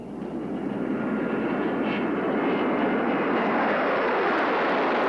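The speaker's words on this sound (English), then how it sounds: "The Air Force scrambled jet fighters from McCord Air Force Base near Tacoma to follow the plane" Jet fighters scrambled from McChord Air Force Base near Tacoma roar steadily overhead, a loud, continuous broadband engine rush with no voices.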